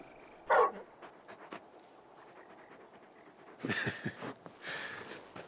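Torgal, the large hound in Final Fantasy XVI, gives a couple of soft, close panting and snuffling bursts separated by quiet stretches.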